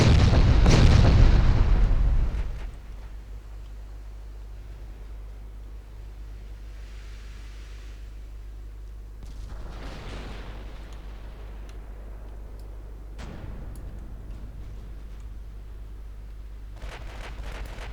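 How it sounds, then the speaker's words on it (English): Naval guns in a warship strategy game firing high-explosive shells at a battleship: a deep, heavy boom at the start that rumbles away over a low steady drone, with a few faint distant thuds following and no voices. "But why are you firing HE at that battleship?"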